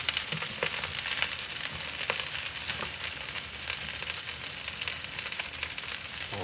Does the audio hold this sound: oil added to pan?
yes